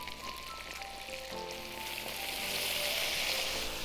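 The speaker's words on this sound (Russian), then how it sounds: "Теперь добавляем темное пиво." Dark beer hits fried pork brisket in a hot kazan, and a steady sizzle swells into a louder hissing, bubbling rush as the liquid meets the meat.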